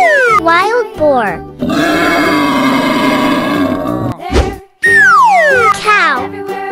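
A wild boar grunts and roars in a rough, loud burst lasting a couple of seconds, framed by lively, swooping, cartoon-like voices before and after.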